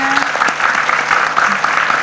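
Studio audience applause on an Indonesian TV health talk show, a steady dense clapping filling the whole stretch, loud and close, with a voice briefly speaking over it.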